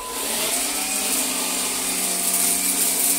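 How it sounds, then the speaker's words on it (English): A Gtech Air Ram Mk2 upright cordless vacuum cleaner runs steadily up close, its motor giving a constant loud whine and airy rush with no pauses and no talking. "So I'm going to clear up all this mess with the winning vacuum"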